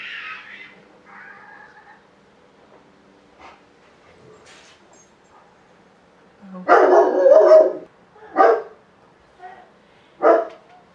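Three loud barks ring out in quick succession, close by, after a quieter stretch with faint voices and small sounds.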